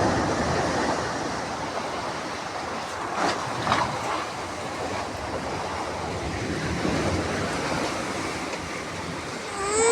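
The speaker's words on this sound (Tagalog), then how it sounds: "Napasok na ang dagat." Seawater surging in during Typhoon Carina: a constant, heavy rushing wash like surf or strong wind, loud and unbroken, with a few louder swells and no talk.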